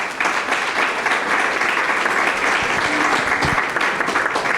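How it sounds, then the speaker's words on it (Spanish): Audience applause for two invited guests at a disability-certificate information session: steady, dense clapping from a sizeable crowd that holds loudly and evenly throughout, with faint voices mixed in. "les pido un aplauso para las dos invitadas"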